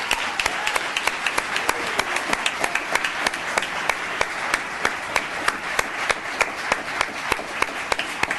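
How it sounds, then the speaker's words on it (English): Applause at a town council meeting, a steady stream of many hands clapping close by for several seconds, with sharp individual claps standing out and no talking. "Let's give him a round of applause"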